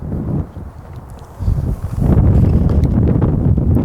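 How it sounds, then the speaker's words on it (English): Heavy wind buffets the microphone in low rumbling gusts, easing briefly and then roaring louder and steadier toward the end. "Pardon the wind."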